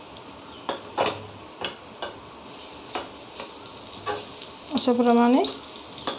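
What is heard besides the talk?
kofta frying in a pan being flipped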